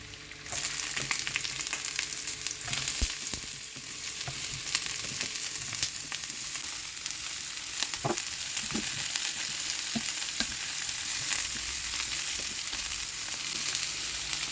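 Chopped onions sizzle steadily in hot oil in a pan for a lamb neck mutton stew, a constant close frying hiss with occasional soft clicks of stirring, no talking.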